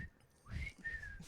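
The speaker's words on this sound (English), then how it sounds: "Sometimes I can whistle and sometimes I I can't." A person whistles a few short, breathy notes, rising then holding steady, near and fairly quiet, with no talking.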